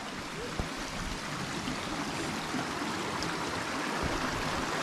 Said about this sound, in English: So we are next to this awesome little stream.